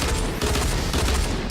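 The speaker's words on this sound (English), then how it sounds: "But when I switch over to the dual blue pistols, it just eats that structure alive." Dual blue pistols in Fortnite fire at a building structure in a loud, dense, continuous stream of rapid shots that overlap without a pause across the short burst.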